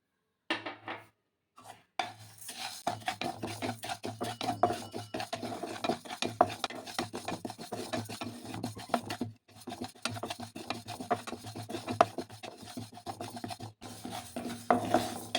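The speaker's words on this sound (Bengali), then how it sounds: "এখন এই মুগ ডালটাও কিন্তু হালকা করে ভেজে নিতে হবে" Moong dal dry roasting in a pan for khichuri, stirred continuously so the lentils rasp and scrape against the metal in quick, uneven strokes, close and soft, with a few short pauses.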